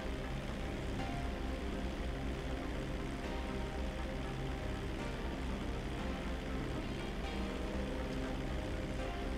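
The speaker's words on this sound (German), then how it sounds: "Das sind wir endlich mal mit dem Flugzeug unterwegs." A propeller airplane in Grand Theft Auto V drones steadily in flight, a constant loud engine and propeller roar that holds throughout with no talk.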